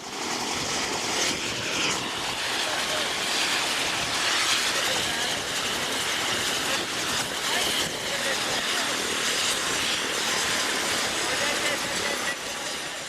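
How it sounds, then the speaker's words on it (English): An Mi-17 helicopter sits on the ground with its engine running, giving a steady, loud, broadband roar and whine that holds unbroken throughout, with voices faintly mixed in. "there was a chopper on the ground and it was a Mi-17 helicopter with which makes a fair amount of noise"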